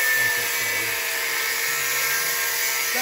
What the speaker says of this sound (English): We'll have to probably use a cutoff wheel on that